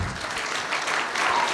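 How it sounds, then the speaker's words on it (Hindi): An audience applauds loudly in a dense, continuous wash of clapping that holds steady throughout. "एक बार बजा दो ताली"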